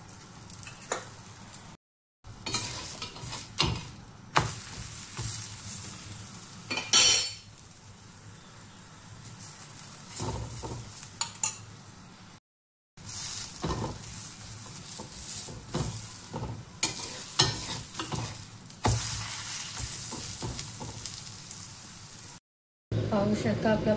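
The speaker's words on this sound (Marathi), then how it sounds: "आपल्याला दोन्ही बाजूला तूप लावून पराठा छानपैकी शेकून घ्यायचा आहे" A paratha roasting in ghee on a pan, cooked on both sides: soft continuous sizzling with brief gaps and occasional clinks of a spatula, close by, with talking over it.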